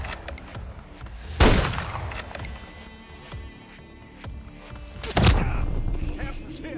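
Sniper gunfire in Call of Duty during a high-rise campaign mission: two sharp, loud cracks several seconds apart stand out over a continuous din of distant battle and scattered smaller shots.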